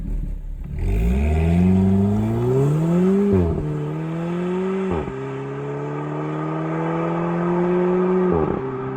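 An Alfa Romeo 4C Competizione with a four-cylinder engine accelerates hard and close, its engine note climbing loudly through several quick upshifts, with a brief dip in pitch at each gear change.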